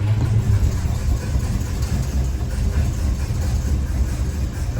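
Steady low rumble of a 1949 Studebaker Champion engine idling nearby, an even droning hum with no talk over it.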